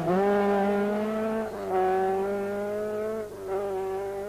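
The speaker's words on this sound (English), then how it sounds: "First to run the gauntlet, McRae, who climbs up to second place after his unleisurely trip round the coast" A rally car on a tarmac stage of the 1983 Circuit of Ireland Rally gives a steady, buzzing engine tone held at high revs, dipping briefly twice as the driver shifts or brakes, then climbing again.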